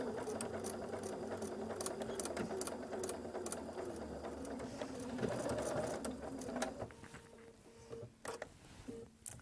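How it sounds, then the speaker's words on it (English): A sewing machine stitching fabric for a drawstring bag hums with rapid needle clatter, a short backstitch change partway through, then slows and stops with a few clicks and handling sounds. "Back stitch and continue stitching."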